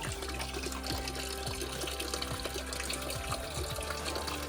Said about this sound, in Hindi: धारा निकलती है, छोटी सी।